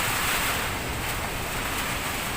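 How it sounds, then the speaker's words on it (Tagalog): Strong wind in the aftermath of Typhoon Pepito roars in a steady, loud, broadband rush with a surf-like wash, constant and close, with no voices. "napakalakas pa ng hangin"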